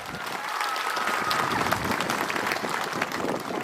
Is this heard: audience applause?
yes